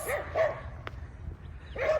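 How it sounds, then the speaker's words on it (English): A dog barks outdoors near a fence where horses stand, two short yapping barks at the start and end with quieter gaps between, moderately close over faint background noise. "The dog's barking at me"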